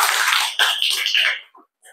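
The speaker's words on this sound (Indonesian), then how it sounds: "Alhamdulillah, luar biasa, tepuk tangan." Classroom applause from a group of students in an eighth-grade religion class, a loud, close burst of clapping lasting over a second before fading into a few scattered claps.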